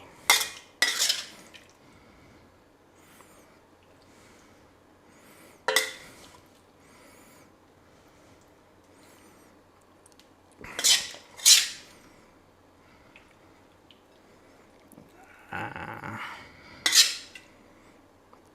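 Spicy stir-fried pork ribs being spooned from a pan onto a plate, with a few separate clinks and scrapes of utensil against metal and dish spread across a quiet stretch.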